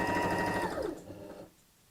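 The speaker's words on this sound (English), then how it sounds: "let's just sew straight down the side" A sewing machine stitching straight down the side of a tote bag, a close, fast whirring run that slows and winds down within two seconds, leaving a quiet tail.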